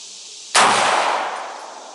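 A single close, loud gunshot from a CZ P07 pistol fired single action at a shooting range, a sharp blast with a long decaying echo.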